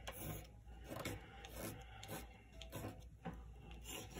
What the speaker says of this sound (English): And then we can also do some scraping. The back of a brush.